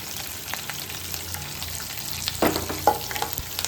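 Spices and curry leaves fry in hot oil for a mutton gravy (thokku), a low steady sizzle broken by two sharp crackling bursts late on, close and without voices.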